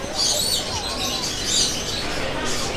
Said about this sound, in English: You can hear we've got loads of birds in the background because they do have loads and loads of animals at this market.